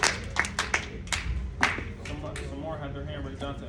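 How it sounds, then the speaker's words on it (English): A small group clapping in a community communication workshop session, a few sharp claps at the start then softer scattered clapping fading out, with a voice talking over it. "Clap it up for LeVar"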